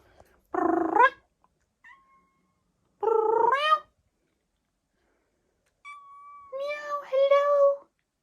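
A cat meows close by several times: two drawn-out meows, a pause, then a softer trill leading into a final longer, wavering meow.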